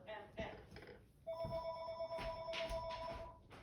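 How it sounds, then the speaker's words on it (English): A telephone rings with a steady electronic ringtone for a couple of seconds, heard beneath ongoing talk and room noise. "My phone rings constantly."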